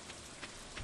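Rain falling on a farm in the video game Stardew Valley, a soft continuous patter with faint drop-like accents, low and steady for under a second.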